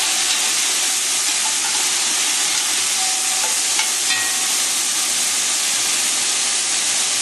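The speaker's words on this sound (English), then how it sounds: "You can hear it sizzling." Beef sautéing in a pan for homemade vegetable beef soup makes a loud, steady sizzle and hiss with no breaks, close up and heard on its own without talk.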